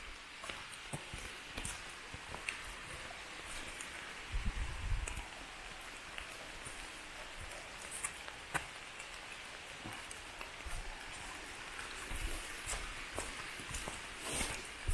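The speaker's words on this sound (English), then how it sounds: "It's raining" Steady rain patters all around on the Appalachian Trail, a dense hiss with scattered drips and a few soft footsteps or rustles in between.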